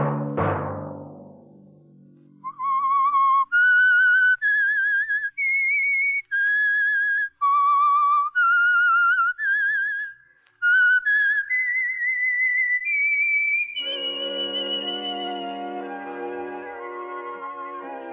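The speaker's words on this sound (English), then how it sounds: "Let that whistle be your signal for the Signal Oil program" A chord rings out and fades, then a clear, close whistled melody of short and held notes, ending on a sustained orchestral chord, from an old radio drama.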